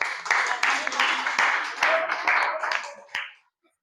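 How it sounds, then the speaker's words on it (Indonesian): Brief round of clapping from a school audience after a junior high student presentation, a close, busy patter of hands lasting about three seconds before cutting off abruptly, with voices faintly underneath. "kasih tepuk tangan dulu"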